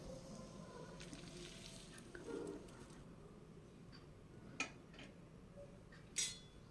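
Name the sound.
coconut paneer frying slowly in boiling gravy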